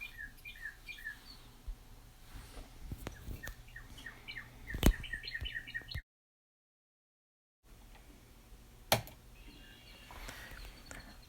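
Red-winged blackbird calling outdoors, with repeated short chirps and trills in bursts, moderately close, over a low background hum and a brief gap of silence midway.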